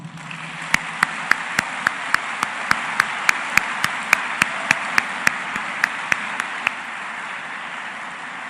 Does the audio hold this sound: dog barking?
no